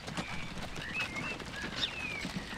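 Horse hooves clip-clopping in the Transport Fever video game, soft repeated steps under faint chirping birds.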